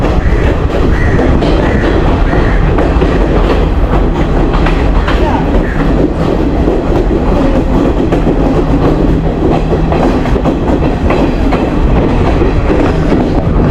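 A train between Colombo and Kandy, Sri Lanka, rolls through a station without stopping, loud and continuous, its wheels clattering rhythmically on the rails with a steady rumbling roar throughout.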